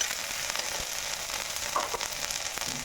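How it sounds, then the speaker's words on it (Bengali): Chopped onion and ginger-garlic paste frying in hot oil, a steady close crackle and sizzle with scattered sharper pops, continuing evenly with no voices. "এখন দিয়ে দিয়েছি তেলের মধ্যে পেঁয়াজ কুচি, তারপরে দিয়েছি একটু আদা রসুন বাটা"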